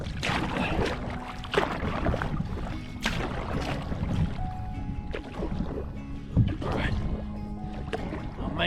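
Paddle strokes and splashing water as a small boat is paddled upstream against a strong river current, continuous rushing water and wind noise with rhythmic dips of the paddle, close to the microphone.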